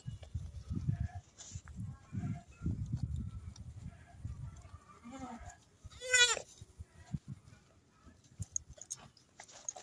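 Goats bleat on a farm pasture, with one loud, close, wavering bleat standing out midway over lower grunts, rustling and a steady bed of animal and background noise.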